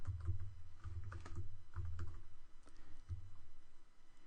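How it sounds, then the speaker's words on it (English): A computer keyboard being typed on at close range: several bursts of quick key presses separated by short pauses, over a low steady hum, with no talking. "So I'll go ahead and start typing that in."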